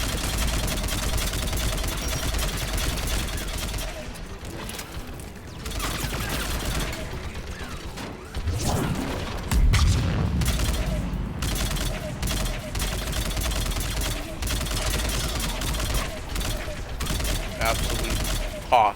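Mounted turret gunfire in Mass Effect 3 Legendary Edition rattles in sustained automatic bursts throughout, loud and close, mixed with game effects and occasional talk.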